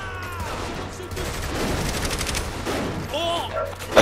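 Rapid gunfire bursts from the video game Saints Row 3 rattle across the clip, mixed with game effects and a voice talking over the action.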